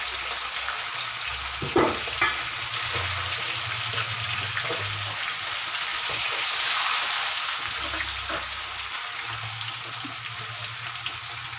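Tilapia fries in a pan for sarciado, a soft continuous sizzle of hot oil with a few brief clinks and stirring scrapes, fairly quiet and heard alone without talk.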